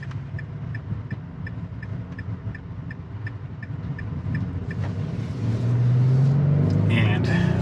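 A 2023 Nissan Frontier Pro-4X engine at full throttle while towing drones steadily up close, its low rumble growing louder toward the end as it climbs in revs; a soft periodic ticking runs through the first half.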